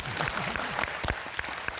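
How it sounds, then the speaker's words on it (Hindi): Audience clapping for teachers at a school Teachers Day salutation programme in Haryana, moderately loud and continuous, with a faint sung melody running underneath. "जोरदार तालियां बजाओ।"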